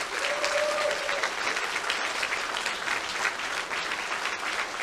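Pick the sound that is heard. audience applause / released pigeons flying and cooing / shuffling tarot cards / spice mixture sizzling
audience applause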